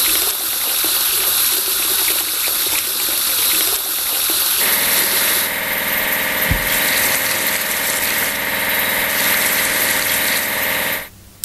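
In an Android truck game for kids, a car wash sprays water as a loud continuous gushing hiss with a pump-like hum, changing tone midway and stopping abruptly at the end.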